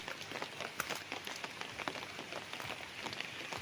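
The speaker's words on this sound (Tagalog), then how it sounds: "Kasalukuyan po habang tayo nagbibideo ay umaambon." Light drizzle falling over a farm lot in Lumban, Laguna, a soft continuous patter of fine raindrops on surfaces, faint and steady with scattered tiny ticks, no voices.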